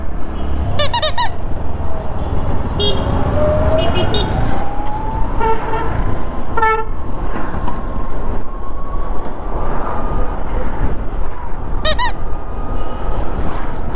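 Vehicle horns honk repeatedly in dense Chennai street traffic, short sharp toots from several vehicles over a constant roar of engines and road noise, with a voice talking underneath.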